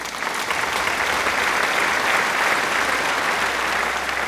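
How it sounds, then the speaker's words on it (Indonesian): Sustained, dense applause from an audience at a high school farewell ceremony for graduating twelfth-grade students, steady and loud throughout with no talk over it. "Mari beri tepuk tangan sekali lagi"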